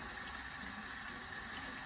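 Tap water runs steadily into a sink while hands are rinsed, a constant hissing flow at close range with no speech.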